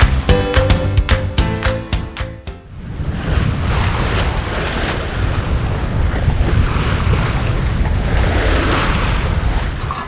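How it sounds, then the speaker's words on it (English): Broadband rush of water against a moving sailboat hull on flat water with a steady beam breeze on the microphone, preceded by a few sharp clicks and tones at the start. "It's flat and there's a lovely breeze and it's just on our beam."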